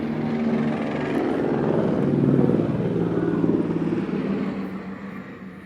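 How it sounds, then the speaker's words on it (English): A helicopter flies over a park, its steady rotor drone swelling slightly and then easing, loud and continuous, with no voices. "I just wanted that helicopter to leave."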